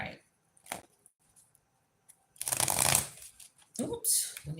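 A deck of tarot-style reading cards is riffled and bridged at a table, two loud bursts of shuffling after quiet handling noises, with a voice speaking briefly.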